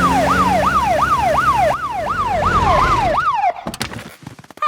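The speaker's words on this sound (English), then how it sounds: "Can we use the siren again?" A cartoon emergency vehicle siren wails in a fast, regular rising-and-falling pattern, loud and up front, before cutting off into a few short clattering sounds.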